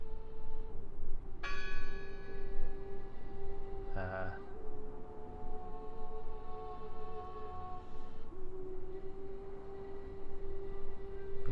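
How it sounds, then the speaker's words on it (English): Bell rung by a rope in the game Draugen, heard through a persistent drone: a clear chime near second 1.5 with long ringing overtones, another brief strike around 4 seconds, and a softer one near 8 seconds. "It must be her ringing the bell."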